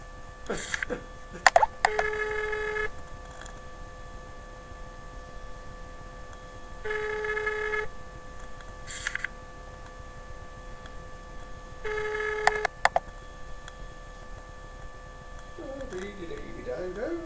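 A telephone is dialed for a call, with short bursts of dial tones and beeps separated by pauses, followed by faint clicks and a low ringing tone near the end, close and fairly quiet.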